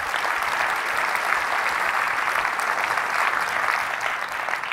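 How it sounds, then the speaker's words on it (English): Audience applause at a virtual reality conference keynote, a steady wash of dense clapping from a large crowd, even and continuous for the whole stretch with no voices over it. "Give a big applause to the SVVR folks for putting on the show."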